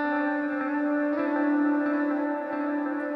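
An electric guitar runs through stacked delays and long reverbs, building a dense, sustained wash of ringing tones that holds steady and loud, with faint repeating picked notes buried in the echoing haze.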